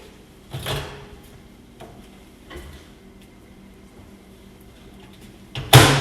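Microwave door handled as a s'more on a paper towel is placed inside, a few soft clunks and taps followed by a sharp loud slam of the door closing at the end.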